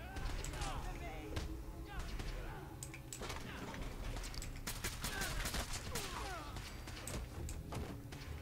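Rapid, overlapping gunfire from Gunner raiders battling each other in the Fallout video game, a dense, continuous rattle of shots and impacts running through the whole stretch, with game music and ambience underneath.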